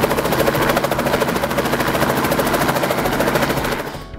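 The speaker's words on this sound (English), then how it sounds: "generating enough lift to get the chopper off the ground and rising" Loud, close helicopter rotor thumping in a fast, even chopping rhythm over a steady engine whine, fading slightly at the end.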